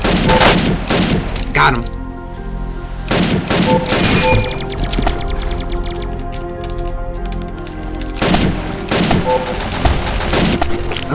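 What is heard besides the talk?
gunfire in a video game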